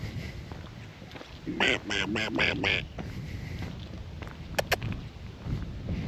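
A duck quacks several times in quick succession nearby, followed by a couple of brief, sharp squeaks against an outdoor background at Indian Mountain State Park, Tennessee.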